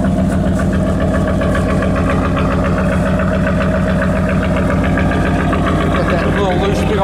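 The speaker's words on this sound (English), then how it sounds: "let the truck run a little bit" A lifted pickup truck sits idling cold, its engine producing a steady, loud rumble with a rhythmic low throb that holds through the whole stretch, close by.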